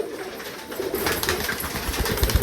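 A pigeon coos softly amid a flock kept penned in rainy weather, brief low cooing with faint rustling, close by.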